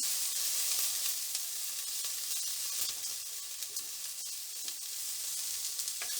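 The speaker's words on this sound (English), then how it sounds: "Make sure it is being fried at the high heat, because that will really burn the vegetables and give the taste to the Schezwan rice" Vegetables for Schezwan rice fry at high heat, producing a loud, steady crackling sizzle with intermittent sharp pops and stirring scrapes, nobody speaking.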